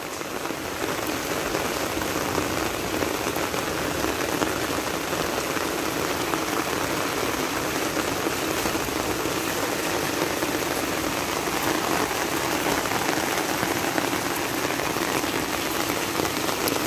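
Heavy rain pours down steadily, a dense continuous hiss of drops hammering surfaces, loud and close with no letup.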